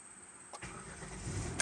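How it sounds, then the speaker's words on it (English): A 2010-2013 Kia with a push-button start cranks briefly and catches, the engine settling into a low idle hum after a faint quiet opening. "And as you see, the car started."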